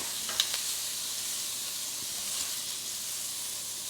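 Blackened shrimp sizzle steadily in a hot pan, giving an even bright hiss all the way through with a few small pops near the start and no voices.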